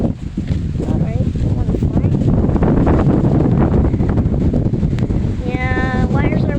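Strong Typhoon Bavi winds of about 38 mph in Metro Manila roar loudly and continuously across the microphone, gusting and buffeting, with a brief voice near the end.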